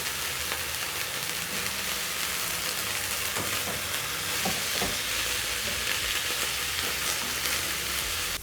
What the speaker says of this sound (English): So I'm going to flip so that the rest of the meat can sear.